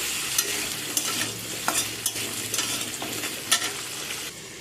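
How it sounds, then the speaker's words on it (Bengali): Potato pieces frying in a pan on medium heat are stirred with a spatula, giving a continuous close sizzle with repeated scraping clicks at an irregular rhythm, no talking. "আলুগুলো আমি এখানে নেড়ে নিচ্ছি।"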